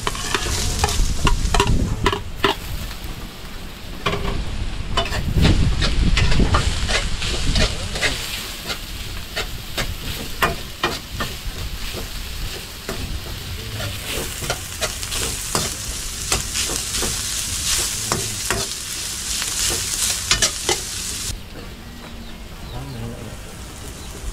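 Onion and garlic sizzle and fry in a hot pan, stirred with scraping clatters, a steady loud crackle running throughout with no talking.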